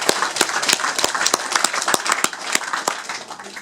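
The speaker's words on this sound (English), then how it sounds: "Please give yourself a round of applause." Audience at a UKIP public meeting in Oswaldtwistle clapping together in a loud, steady burst of applause, dense overlapping handclaps with no voices over them.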